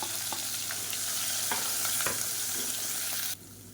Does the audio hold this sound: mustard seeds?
yes